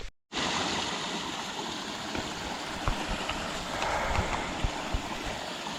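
Small stream running beside a hiking trail in a hilly glen, a steady close-up burble and rush of water after a brief silent start, with occasional sharper splashes and no voices.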